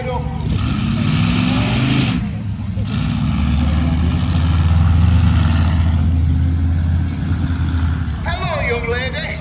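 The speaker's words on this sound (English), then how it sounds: "Yorkshire arse hits the seat just in time to get the truck fired up" A monster truck engine fires up and runs loud and close, a heavy low rumble that swells and roars steadily at a show in Stirling, with voices talking over it.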